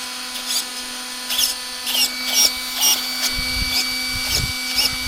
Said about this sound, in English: Servo's working fine.